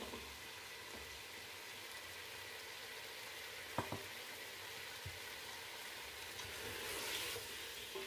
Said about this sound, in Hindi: अच्छी तरह से मिक्स करेंगे और तकरीबन 2 मिनट के लिए इन्हें पकाएंगे